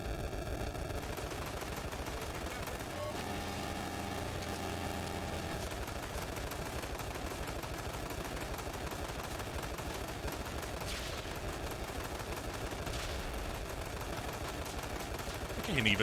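Steady gunfire in the biker video game Ride to Hell: Retribution rolls on continuously under engine drone and game music, a dense wash of shots with no clear pauses.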